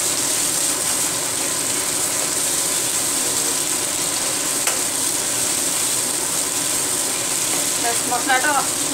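Masala of tomato and onion with salt fries steadily in a pan, a constant dense sizzle with a few small scraping stirs near the end, close and even throughout.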